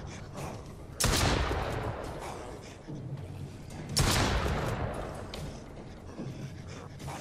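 Gunfire in the survival video game Mist Survival, two sharp loud shots about three seconds apart, each trailing off into a decaying echo over a low ambient background.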